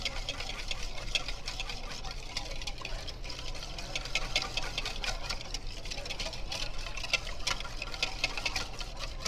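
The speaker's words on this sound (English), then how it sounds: "we're going to continue to whisk just to make sure it's well emulsified together" Whisk beating oil into a vinaigrette in a bowl, a steady, quick rattling clatter of metal wires that stays fairly soft and close throughout.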